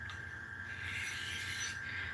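Pocket knife blade drawn along a fine-grit diamond kitchen sharpening steel, a steady, smooth, quiet rasping rub that continues without a break for about two seconds, heard up close with no voices.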